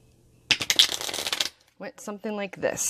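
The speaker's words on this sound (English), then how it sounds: "when I was trying to learn how to shuffle, this is what happened" A deck of playing cards shuffled by a learner, a quick riffling flutter up close, then a short pause followed by a voice talking briefly, with another burst of card noise at the end.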